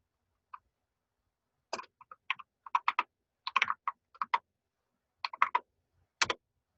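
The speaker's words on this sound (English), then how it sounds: "I apologize for the slowness of my typing" Slow, irregular typing on a computer keyboard: scattered clusters of close, crisp key clicks separated by short silent pauses.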